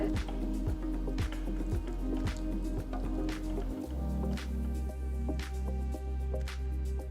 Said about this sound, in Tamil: பருப்பு கலவில் இருந்து கொஞ்சம் எடுத்து பேனில் வச்சு கொஞ்சம் கனமாக ஸ்ப்ரெட் பண்ணுங்க